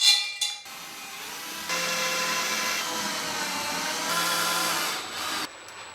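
A cordless power screwdriver drives screws to fix wooden sink supports in place, giving a sustained close motor whir in two long runs with a short pause between them and no talking.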